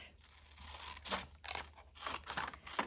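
Scissors snip through a section of paper for an envelope folio, several short crisp cuts in an uneven rhythm, close and fairly quiet with no voices.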